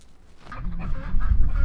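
Chickens in a snowy farmyard in extreme cold, clucking and squawking up close, the calls swelling louder and busier toward the end with no talk.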